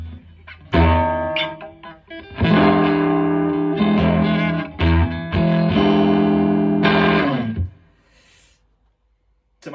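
Electric guitar on an amp's clean channel with a touch of reverb, guitar volume and tone fully up on the neck pickup, rings out in loud sustained chords and short stabs, then fades into quiet.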